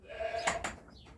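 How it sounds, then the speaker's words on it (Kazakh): A single short, fairly faint bleat from Saanen dairy goats, first-time mothers, in a livestock setting, heard alone with low background noise. "Занин породасындағы ешкілер."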